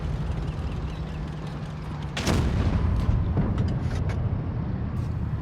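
A tank gun fires in World of Tanks Blitz, one loud booming blast about two seconds in, rising over a steady mechanical engine rumble that continues afterward with faint clanks.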